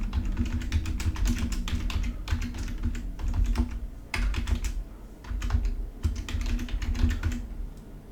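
Steady, continuous typing on a computer keyboard while entering a prompt for an email, a dense run of close, crisp key clicks with a few brief pauses.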